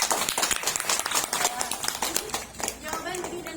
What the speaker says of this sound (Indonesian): Tepuk tangan untuk Dini dan Hafsah.